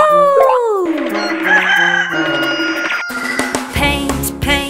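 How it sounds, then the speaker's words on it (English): A rooster crows in a cartoon nursery-rhyme song, a drawn-out call set among bright music and sung melody, loud and close. "I'm a rooster."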